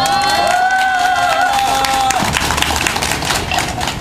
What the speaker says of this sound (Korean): 모든 분들과 큰 박수와 함성으로 시작하도록 하겠습니다